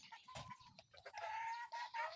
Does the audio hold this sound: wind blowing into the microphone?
no